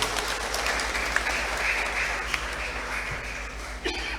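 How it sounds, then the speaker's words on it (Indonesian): A church congregation applauds a choir at an evening Maundy Thursday Mass, producing sustained, even clapping from a large crowd that fills the room and tapers slightly at the end. "Kita kasih tepuk tangan untuk mereka."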